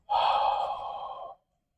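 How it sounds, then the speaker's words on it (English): A single deep, steady exhale during yoga breathing, close and clear, lasting just over a second before fading to silence. "In. Six. And exhale."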